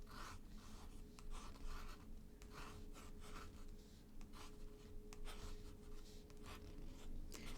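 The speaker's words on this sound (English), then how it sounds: "Doesn't feel too bad drawing on watercolor paper, actually." A fountain pen moves across watercolor paper in a continuous, faint scratching with short rhythmic strokes. The paper sits close to the mic, the sound lasts several seconds and no one talks.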